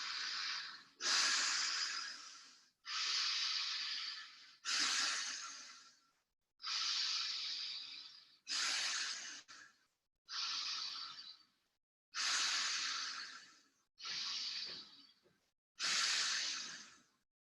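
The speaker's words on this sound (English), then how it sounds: "First 20 breathing only in the belly by the diaphragm." Pranayama belly breathing through the diaphragm: ten deep, forceful breaths in an even rhythm, each a loud, airy rush of about a second separated by short silences, close to the microphone.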